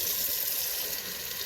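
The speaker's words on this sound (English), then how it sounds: "I just put the water in the hole" Water pours into the channel of a Hoover SmartWash carpet cleaner in a short, steady, close rush of splashing flow.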